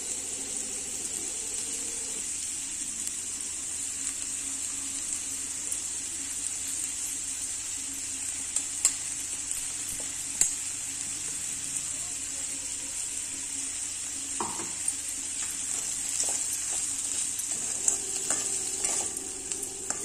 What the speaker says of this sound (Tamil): தேங்காய் போட்ட பிறகு ரொம்ப நேரம் கலர வேண்டாம், ஜஸ்ட் ஒன்னா சேர்ந்து வந்து விடணும்.